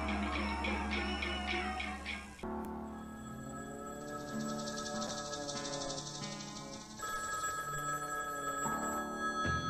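A telephone in a TV commercial rings repeatedly with a bright electronic trill, loud and close, first in rapid bursts and then as a layered ringing tone over music-like sustained notes; no speech.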